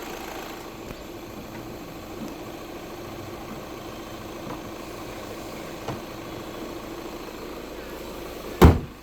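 A 2018 Volkswagen Vento Highline Plus automatic diesel sedan idles with a steady, even low hum and no irregular noises, ending in a single sharp knock close to the microphone.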